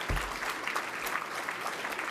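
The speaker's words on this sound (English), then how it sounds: "Wow, I thought I'd get a clap for that on all the developers in the room." Brief audience applause at a city's State of the City address, a short, fairly quiet patter of scattered clapping from a room of listeners.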